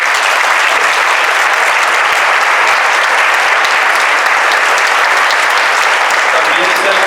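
Sustained audience applause at a ceremony of Mexico's Jewish community, a dense, loud, even wash of clapping from a large crowd that runs steadily throughout.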